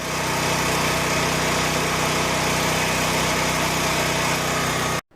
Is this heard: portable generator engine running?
yes